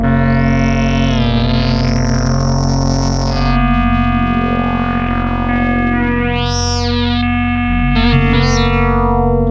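Kharper synthesizer tones with heavy distortion and echo sweep up and down over a sustained droning root note, played alone with no voices.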